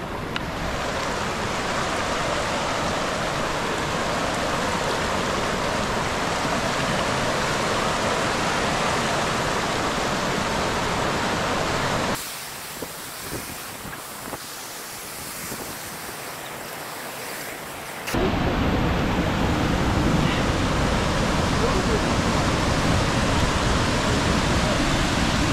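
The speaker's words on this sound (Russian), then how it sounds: "Подходим к водопаду" Steady broadband rush of a mountain waterfall beside a busy hiking trail to Lake Donguz-Orun near Terskol, loud and continuous, with a brief muffled dip midway, likely from wind on the microphone, before the full roar returns.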